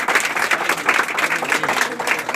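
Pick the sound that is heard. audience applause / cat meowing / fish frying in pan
audience applause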